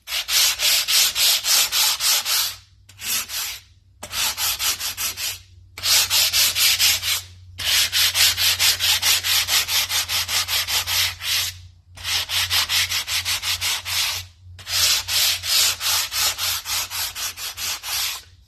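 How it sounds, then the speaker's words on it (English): An engine gasket surface on a Honda N600/Z600 is sanded with 80 grit paper on a short long board, giving loud, steady rasping strokes in long bursts separated by short pauses. "Before I put the gaskets on, I like to surface slightly. I use 80 grit and a short, long board"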